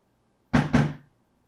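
A UPS delivery driver knocks twice on a door, a quick close double rap with a slight ring, and then there is silence.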